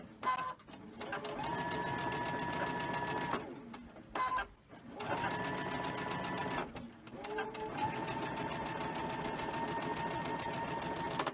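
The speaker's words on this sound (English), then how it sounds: "we're going to go ahead and sew the rest" A sewing machine runs steadily, stitching quilt fabric for a Halloween-themed mystery quilt, with two brief pauses before the motor hums and needle clatters resume at a close, even level.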